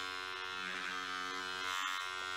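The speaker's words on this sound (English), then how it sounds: "I wonder what she's shaving, because it's like actually sounds like it's touching something" Electric razor shaving in an ASMR recording, a steady close buzzing drone with a fluctuating texture as it moves against something, heard on its own without talk.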